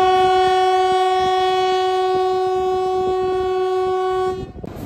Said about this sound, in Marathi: माल वाहतूकवाली ट्रेन आहे.